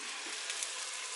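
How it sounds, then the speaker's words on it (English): Onions and peppers sautéing in a Power Pressure Cooker XL: a steady, soft sizzle and hiss of frying, brief and unbroken. "We want to saute the onions and the peppers now"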